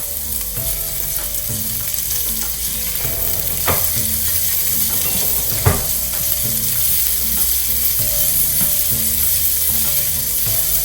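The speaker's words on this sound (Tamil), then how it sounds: "இந்த டைப்பில் நம்ம கொஞ்சம் வெங்காயம் விட்டு வதக்கிக்கலாம்." Onions sizzle steadily in a hot pan for a sago pongal, a continuous bright frying hiss with occasional stirring clinks and a faint rhythmic mechanical ticking in the background.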